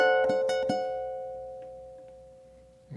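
Ukulele fingerpicks a bar of an eerie Halloween-style etude: a few quick plucked notes at the start, then a sustained ringing chord slowly decaying alone, close and clear.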